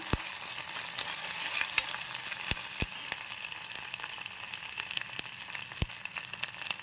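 Curry ingredients fry in a pan, giving a continuous soft sizzle with scattered sharp crackles and pops, no talking.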